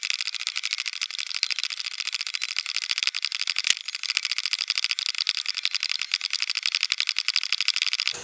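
Brass cases of .45 Colt being resized in a reloading press die, a steady stream of fast, dense mechanical ticks and scraping clicks at close range, with a couple of sharper knocks along the way and no talking.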